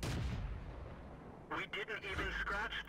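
A tank cannon fires in the World of Tanks video game, a heavy booming blast followed by a rumbling tail, with a voice talking over the game audio.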